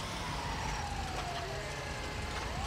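An ambulance siren in Grand Theft Auto V, a steady wailing tone sweeping up and down at moderate distance over continuous traffic and engine noise.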